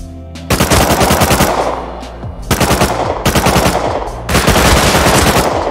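Loud, close bursts of rapid automatic fire from an MP5 in Rust Console Edition come in long sustained strings, with brief gaps between three or four bursts and no talking over them.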